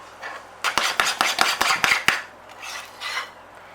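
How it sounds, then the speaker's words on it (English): A spoon scrapes and clinks against a bowl while chocolate muffin batter is mixed, a quick run of sharp, rhythmic taps and rasps, then softer stirring, close and alone. "mix it in really well."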